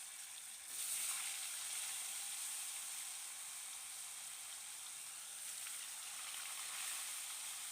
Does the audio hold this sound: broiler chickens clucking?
no